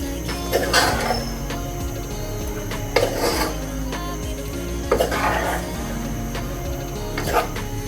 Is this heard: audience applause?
no